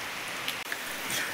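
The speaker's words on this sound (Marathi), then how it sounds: "आता ह्यो पाऊस चालू आहे ना" Rain falls steadily on an open farm field where bullocks have been yoked to a plough, a soft, even hiss of drops heard close by and alone, with no voices.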